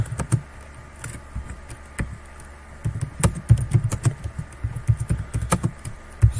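Computer keyboard keys typed in quick irregular bursts while entering Urdu text in InPage software, close and clear with no voices.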